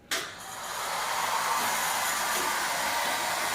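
A hair dryer blower switches on abruptly and settles into a steady, loud whirring roar that holds without a break, heard close up in a hotel room in Boracay.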